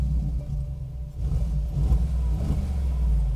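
A 2021 Mercedes G63 AMG with a quad exhaust, two tips on each side, turns over and settles into a deep, loud idle, then gives a few short revs that swell and fall close by.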